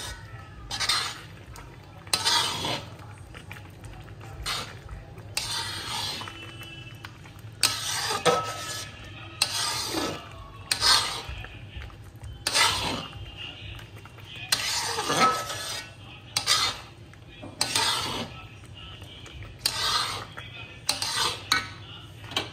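Homemade pickle (achar) with spices being stirred in a metal pan, with repeated scraping and clinking strokes of a spoon against the pan, close and fairly loud, coming in uneven bursts with short pauses between them.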